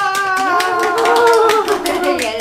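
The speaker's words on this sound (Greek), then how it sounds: "Άμα σ' άρεσαν πάρα πολύ, μπορεί να χειροκροτήσεις" Rapid hand clapping with crisp, evenly repeated claps in a home setting, close and loud, overlapping with a voice and sustained tonal sounds.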